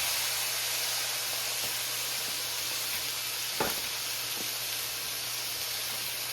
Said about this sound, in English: So I started with frying my onion a little bit. Then I'm gonna put my meat.